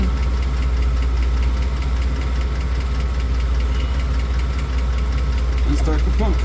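A BMW E38 750i V12 engine idles steadily with a low, even hum and a faint rhythmic patter, close and continuous throughout, as transmission fluid is added with the engine running.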